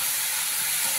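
Bottle gourd pieces sautéing in a hot pan, a steady, close, bright sizzle that holds evenly throughout, with no talking.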